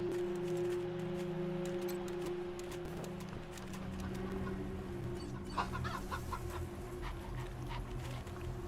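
Clucking from a chicken in the video game Wasteland 3, steady and fairly close over a constant hum of game ambience, with no talk.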